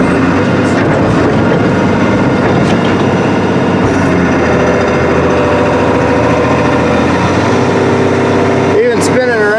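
A Link-Belt 2800 excavator's engine with a hard-start problem runs loud and close under load, its rumbling drone dipping and straining. Someone talks over it.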